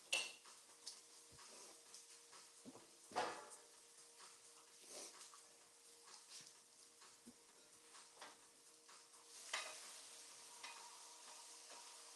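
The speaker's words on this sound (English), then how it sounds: "Scrape the shit off the pan" Metal utensil scraping crusty egg residue from a frying pan, with scattered close clinks and scrapes in uneven bursts over faint steady background noise.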